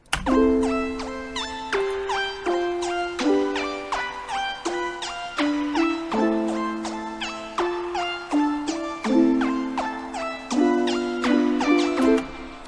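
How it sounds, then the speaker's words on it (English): Piano chords ring out beneath a quick run of bright synth plucks, both layered into one steady, flowing melodic beat loop. "And then with the piano, those plucks sound like this."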